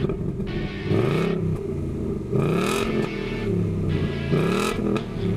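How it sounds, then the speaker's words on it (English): A 2020 Ford Mustang GT V8 starts and idles with a deep rumbling exhaust, rising and falling through several throttle blips, close and loud with no talk. "How about we turn it on and listen to those beautiful exhaust notes."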